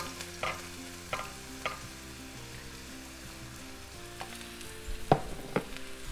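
Onions sauté in a pan with sesame oil, a faint low sizzle beneath several sharp clinks and scrapes of a utensil stirring, with the clatter growing louder toward the end.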